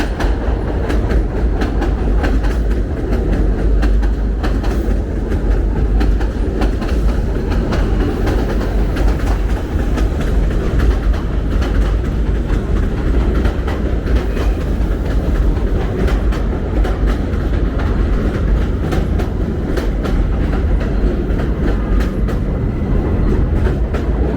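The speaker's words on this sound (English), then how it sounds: "That was the first train we got to see go over us." An elevated subway train rumbles steadily overhead on 86th Street in Bensonhurst, Brooklyn, with rhythmic clickety-clack of wheels on rails, loud and close, sustained throughout with no talking.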